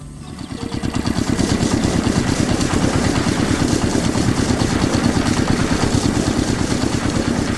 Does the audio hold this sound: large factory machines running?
yes